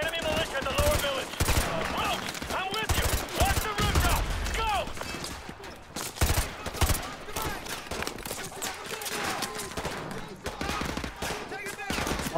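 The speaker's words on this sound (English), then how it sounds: "Oh, that was a grenade." Dense gunfire rattles through a Call of Duty Modern Warfare 2 firefight, with loud bursts and a heavy blast among repeated shots while voices talk over the chaos.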